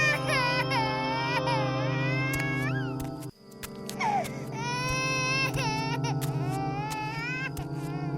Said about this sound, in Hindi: ये रोने की आवाज कैसी?